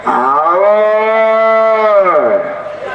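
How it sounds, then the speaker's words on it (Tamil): A cow moos once, a long, loud, close bellow with a rich harmonic tone that holds steady for about two seconds and then drops off. "இந்த பசு மாட்டு மாதிரி இருக்க கூடாது அது என்ன சொல்லுது"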